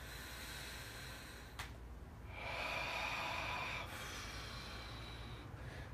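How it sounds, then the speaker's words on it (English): A deep breath in during guided breathing, a soft, close airy inhale swelling for a second or two, then fading into quiet room hiss. "Another deep breath in."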